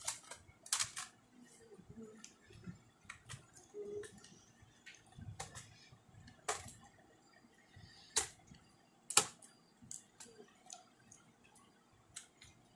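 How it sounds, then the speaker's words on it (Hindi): A replacement keyboard is pressed into place on a Dell laptop, with scattered sharp plastic clicks and snaps and soft handling rustles at a quiet, close level. "अब चलिए कीबोर्ड को हम फिट कर देते हैं।"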